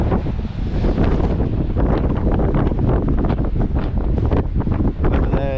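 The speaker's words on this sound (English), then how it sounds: "It is a bit windy" Strong, steady wind on a clifftop in West Cornwall buffets the microphone, a loud continuous roar with gusty rumbling throughout and no clear voices.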